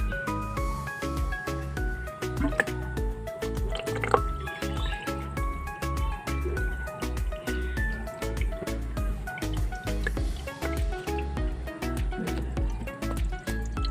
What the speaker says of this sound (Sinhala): දැන් අපි වතුර දාන්නයි හදන්නේ.